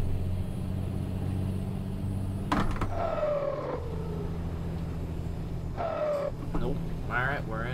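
A 2016 Kenworth T800 truck in American Truck Simulator, a low steady diesel engine rumble running throughout, with brief rising tonal sweeps from shifting or a horn-like sound partway through, and voices talking over it.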